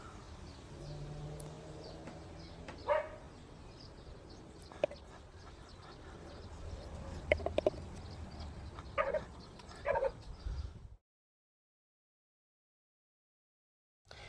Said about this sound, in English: Next door's dog.